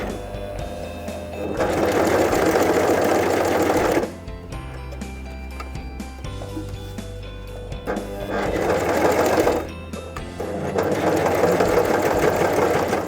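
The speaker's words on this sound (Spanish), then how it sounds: "Comienza a coser asegurándote que tus agujas caen en la tela." A Brother CV3550 coverstitch machine sews fabric in loud, fast, steady mechanical bursts of several seconds each, with quieter pauses of faint clicking and handling in between.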